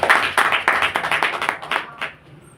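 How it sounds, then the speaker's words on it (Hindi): A short burst of clapping follows a children's Hebrew alphabet recitation at a Bible class, several hands striking in a quick uneven rhythm that thins out and stops after about two seconds. "जोर से ताली बजाइए"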